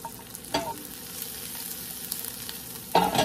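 Garlic sautés in a pan with broccolini and trumpet mushrooms, giving a steady low sizzle with two louder bursts of stirring or clattering near the start and end.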